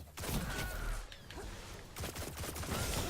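Rapid bursts of gunfire from a video game firefight, sharp cracks in quick clusters with a brief lull in the middle, loud and close, with faint voice chatter mixed in.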